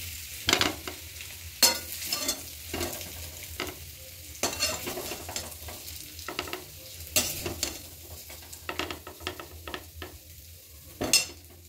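Spiced green peas frying in oil are stirred repeatedly, with a soft background sizzle broken by sharp, irregular scrapes and clinks of a spatula against the pan, close and fairly quiet.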